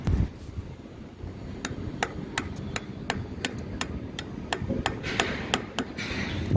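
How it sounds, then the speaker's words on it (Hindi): A hammer taps a pin to tighten the lock ring on a bicycle freewheel, giving a series of sharp, metallic knocks at an uneven, fairly quick rhythm over a low background rumble. "अब हम इस पिन और हैमर की मदद लेंगे और इस लॉकरिंग को ठोक कर अच्छी तरह से टाइट कर"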